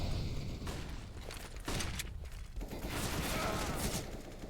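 Rifle fire from an M4 in a Counter-Strike match on the Overpass map, with bursts of shots among the steady noise of the game and a Molotov in the mix, loud and close throughout.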